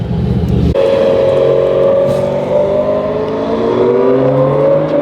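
A Honda Type R engine rumbles loudly nearby by a driveway, low and throaty, then the pitch rises steadily as it revs and pulls away, with no talk.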